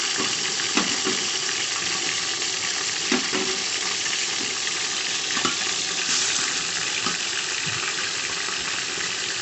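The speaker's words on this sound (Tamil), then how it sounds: "இந்த கறி வேகிறதுக்கு ஒரு அரை ஹவர் உப்பு போட்டு நல்லா வதக்குங்க இப்போ எண்ணெயில்" Country chicken pieces sauté in hot oil with salt, a steady, loud, dense sizzle and frying hiss with occasional stirring clinks and scrapes, close and continuous with no voices.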